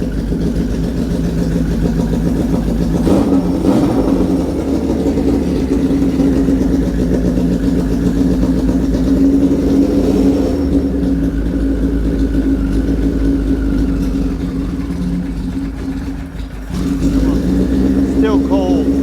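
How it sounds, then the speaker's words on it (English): A cold vintage motorcycle engine, a 1977 Kawasaki KZ1000 or a Honda CB160, idles on choke while warming up, a loud, steady, slightly lumpy chug with brief dips in the note. "Let's let it run right there for a minute. Let it warm up a little bit, then I'll take the choke off"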